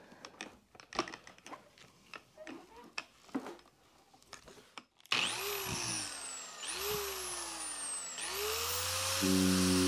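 Machine polisher with compound buffing an acrylic window on a truck camper, heard after some light handling clatter as a loud, sustained motor whine that repeatedly dips and rises in pitch.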